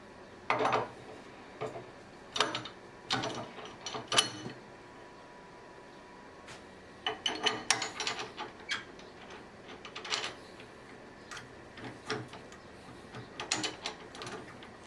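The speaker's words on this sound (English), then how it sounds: "I'm mounting it onto my chuck with a worm screw" Wood lathe chuck being tightened onto a worm screw, heard as quiet, close ratcheting clicks in irregular bursts separated by brief silences.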